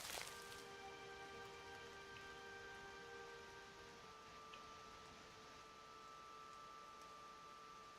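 Steady rain falling in the fantasy game Pillars of Eternity, a soft even hiss of drops on surfaces with a faint tonal hum, continuous and quiet with no voices.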